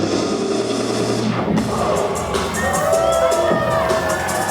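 Loud wrestling arena crowd at a Project X Wrestling event roars and cheers as El Reverso comes out, a dense wall of shouts and whoops with a sudden shift partway through and higher yells rising above the din.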